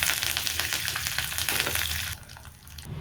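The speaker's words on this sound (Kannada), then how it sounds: "ನೋಡಿ, ಒಗ್ಗರಣೆ ಹಾಕ್ಕೊಳ್ತೀನಿ" Mustard seeds, a dry red chili and curry leaves crackle and sizzle in about two spoons of hot oil for a sweet pumpkin sambar tempering, loud and close, then the sizzle drops off abruptly.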